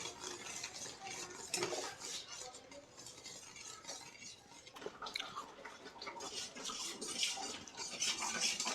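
Rice cooking in a pot for Maharashtrian kheer is stirred with a spoon, giving soft irregular scraping and clinking against the pot over a low, muffled background.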